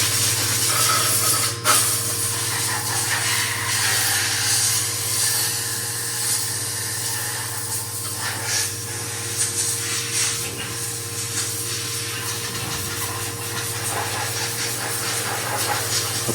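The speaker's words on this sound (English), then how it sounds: "I want to blow all the coolant off it so we can at least get a half decent look at it." Compressed air hissing steadily as it blasts coolant off freshly machined billet intake runners inside a Haas VF3 CNC mill, a continuous broadband rush over a low machine hum, with a brief sharp burst near the start.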